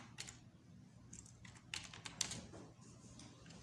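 Typing on a computer keyboard while entering text in Adobe Illustrator: light, irregular keystrokes with a few firmer taps, close and fairly quiet, with no talking.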